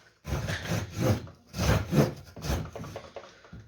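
Hand saw cutting through a wooden trout swimbait lure: close, rasping back-and-forth strokes, about five or six of them in an uneven rhythm.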